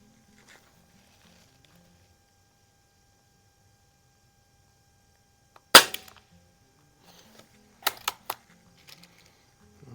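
A Crosman 3622 air rifle fires at a target, with one sharp crack, then a quick cluster of clicks and a pellet-like snap a couple of seconds later, against near silence.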